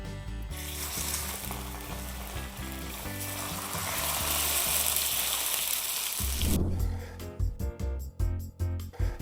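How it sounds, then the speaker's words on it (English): Salt-and-peppered salmon fillets sizzle steadily in a hot pan, a dense hissing fry that grows louder midway, followed by clattering and tapping sounds toward the end. "So now we're gonna go ahead and put the salmon in the pan."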